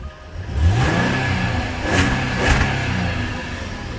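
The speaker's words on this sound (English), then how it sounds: "to give you an indication of what the car actually sounds like, it is supercharged" A supercharged 3.0 V6 engine in a 2013 Jaguar XF revs hard in a few rising bursts, loud and close, with a steady throaty rumble between the blips.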